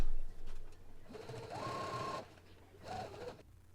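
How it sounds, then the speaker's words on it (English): A sewing machine stitches a McCalls 7654 holiday dress, joining bodice to skirt, in two short whirring bursts, a longer run followed by a brief one, close up and fairly quiet. "go ahead and take it to the sewing machine and sew it together."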